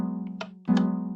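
Two Minecraft note blocks activated at the same time in the video game. A steady low tone carries on while a couple of brighter plucked notes strike over it, each layering two pitches at once.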